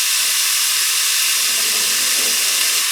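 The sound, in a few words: sliced cabbage added to hot pot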